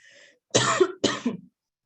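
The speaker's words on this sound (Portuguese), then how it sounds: "me deu uma tosse aqui" Two close, sharp coughs, one right after the other, following a faint brief sound; then silence.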